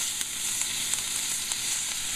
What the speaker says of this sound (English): Me personally, I love crispy and burnt bacon. Yeah, I'm putting more in there.